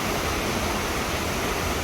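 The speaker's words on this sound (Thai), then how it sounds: "คือน้ำตกไหลจากตรงนั้นมาเลยนะครับ" Water pours down a waterfall at Khao Kho in Phetchabun, making a steady, loud, unbroken rushing roar with no voices.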